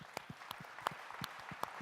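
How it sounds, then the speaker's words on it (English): Scattered claps from a small group, sharp irregular hits spread across a couple of seconds, fairly quiet and without voices. "I do want to give Austin a big round of applause"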